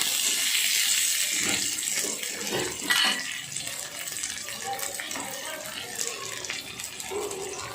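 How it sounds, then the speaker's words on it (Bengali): Chopped onion fries in a pan while being stirred, giving a steady, hissing sizzle with occasional scrapes throughout. "পেঁয়াজটা দিয়ে দিলাম দিয়ে একটু নাড়াচাড়া করে নিচ্ছি"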